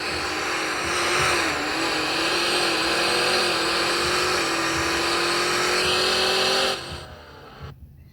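A drag racing car engine in No Limits Drag Racing 2.0 roars loud and steady through a game replay run, pitch climbing with gear changes for about seven seconds before cutting off abruptly into near silence.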